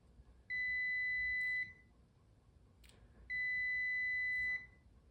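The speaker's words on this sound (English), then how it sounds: "I'm testing for continuity." A multimeter in continuity mode beeps while testing the horn wire on a 1970 Honda Trail 70, sounding two clear, steady, high electronic tones of about a second each, separated by a short gap with faint handling noise.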